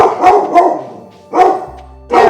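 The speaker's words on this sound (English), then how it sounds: "Why are you barking?" A dog barks in the video game Stardew Valley: three short, loud, close barks spaced roughly a second apart, heard alone.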